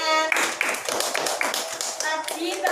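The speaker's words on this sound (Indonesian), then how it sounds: "ayo kita beri tepuk tangan." A small group claps in a classroom lesson, with separate sharp hand claps in an uneven rhythm alongside voices and a tonal background sound.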